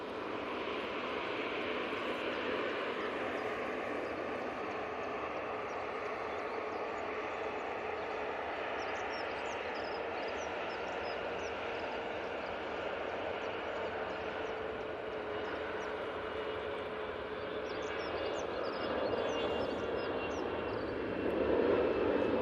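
An EasyJet airliner rolls down the runway for takeoff at Manchester Airport, its jet engines giving a steady, broad roar that holds fairly level and swells slightly near the end, with no talk over it.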